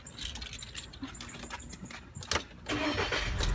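A Volkswagen Tiguan engine cranks briefly and catches, settling into a steady idle hum, fairly quiet and heard alone without voices.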